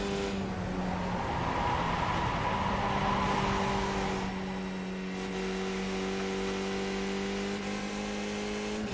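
A CanAm race car engine in a racing video game set at Canadian Tire Motorsport Park, droning loudly and steadily with sustained harmonic tones that shift slightly in pitch as the car accelerates, with no voices.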